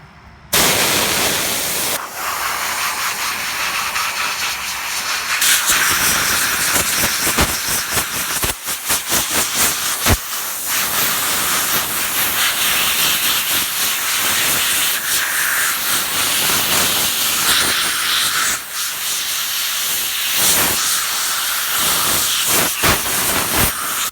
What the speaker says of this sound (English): I'm going to hold it, and then I'm going to blow it up with the compressed air.